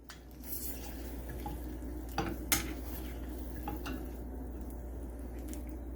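An egg frying in a pan on low heat slides and gets flipped, a quiet, faint scrape of a spatula with a couple of sharp clicks against the pan, then soft, steady background hiss.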